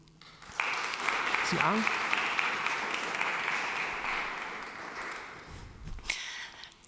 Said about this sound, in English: Please give a warm round of applause for Marieke de Goede.